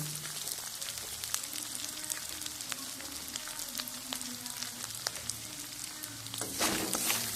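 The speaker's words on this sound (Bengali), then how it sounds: "এটা গ্যাসটা লো টু মিডিয়ামে রেখে কষিয়ে নেবো মশলাটা" Ground cumin and coriander powder sizzle steadily in a hot pan over low-to-medium gas, a dense continuous crackle with occasional sharper pops and a brief louder burst near the end, with no voices.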